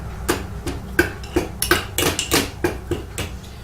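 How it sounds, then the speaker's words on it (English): Spoon stirring fresh herbs down into a glass jar, a rapid series of about ten clinking, scraping knocks at an uneven rhythm, close and fairly loud. "Take a spoon and kind of stir it down in there and get it in."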